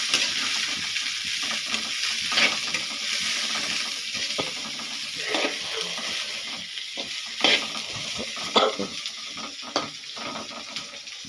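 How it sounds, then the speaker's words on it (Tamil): Shredded cabbage, onion and curry leaves sauté in a pan after mustard seeds have popped, with a steady sizzle running throughout and occasional stirring scrapes and clatters close by. "இந்த பாருங்கள் முட்டைக்கோசு, வெங்காயம், கருவேப்பிலை எல்லாம் போட்டு"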